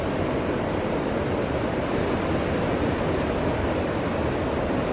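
Ocean surf rolls in on a sunny beach on the Oregon coast, heard from an overlooking parking lot as a steady, faint, broadband wash with no distinct breaks or voices.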